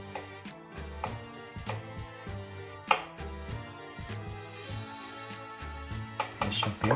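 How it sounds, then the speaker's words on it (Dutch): A knife chops celeriac on a cutting board in a home kitchen, steady repeated cuts running under a continuous musical backdrop, with a few louder knocks near the end. "Knolselder. Dus de knolselder die snijden we min door."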